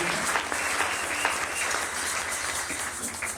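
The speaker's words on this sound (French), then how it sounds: "Maintenant, acclamons Jésus." A church congregation applauding Jesus during a worship service, dense sustained clapping from many hands filling the room evenly, steady and fairly loud, with a faint murmur of voices underneath.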